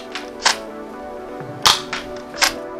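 An X-Shot Dino Striker toy blaster fires darts outdoors in a breeze, a few sharp plastic snaps spaced apart over a steady wind-like background hiss, no talking.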